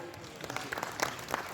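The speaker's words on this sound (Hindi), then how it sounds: "ये काफ़ी फीकी फीकी तालियां लग रही हैं आज के दिन यहाँ पर।" Thin, scattered audience applause at a launch event, only a handful of sparse claps at moderate level with a few voices murmuring beneath.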